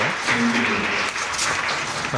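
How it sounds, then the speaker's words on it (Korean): Audience applause fills a conference hall at a security forum session on emerging technology, a dense steady wash of clapping lasting about two seconds with faint voices underneath. "큰 박수 부탁드립니다"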